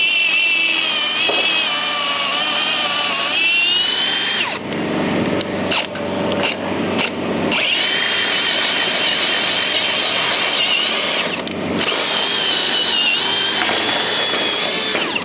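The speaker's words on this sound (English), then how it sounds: "That drill is nice though." An AEG limited-edition power drill driving a worn spade bit through timber on a building frame, its high whine running steadily, then breaking into rough bursts of load before spinning up again, loud and close with no talk.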